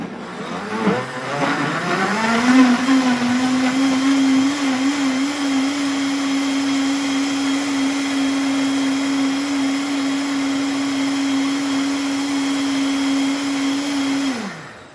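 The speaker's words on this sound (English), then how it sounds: "Okay, last blender batch going in." A blender purees very ripe, soft tomatoes for pizza sauce. It starts with a short rattle, spins up, and holds a loud, steady whining drone for about twelve seconds before cutting off at the end.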